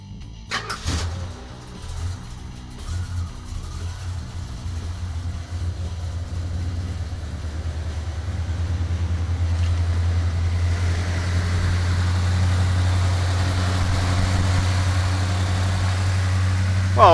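Car engine with an HEI ignition control module cranking briefly, then catching and settling into a steady low idle that grows slightly louder and rougher, heard close with some faint background noise.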